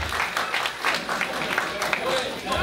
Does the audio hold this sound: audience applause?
yes